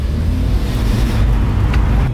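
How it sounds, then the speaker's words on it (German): Car engine at full throttle, heard as a steady, loud low-pitched roar with wind buffeting the microphone throughout, no pauses or gear changes. "Jetzt Gas drücken!"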